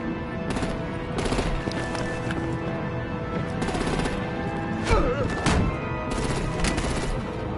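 Heavy gunfire from a Batman video game, with dense, sustained bursts of shots and blasts filling the scene under a busy battle mix, occasional louder impacts punching through.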